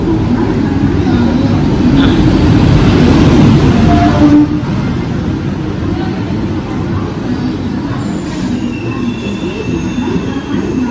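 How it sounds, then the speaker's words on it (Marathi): The Howrah Mumbai Mail pulls into Dadar station in Mumbai with a loud, close rumble of coaches and squealing wheels, the roar thinning a little midway as the train slows. "इकडे हावरा मुंबई मेलचं अरायवल झालेलं आहे"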